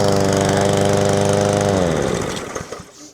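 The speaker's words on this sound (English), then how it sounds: "Let's see if it starts" A PowerSmart 22-inch self-propelled rear-wheel-drive lawn mower engine runs loudly and close by with a steady buzzing drone, then winds down and sputters to a stop near the end.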